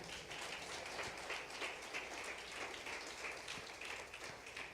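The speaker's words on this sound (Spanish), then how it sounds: "Aplauda la gloria de Dios." A church congregation applauds steadily, a dense, even wash of clapping that holds at constant strength without breaks, somewhat distant and soft.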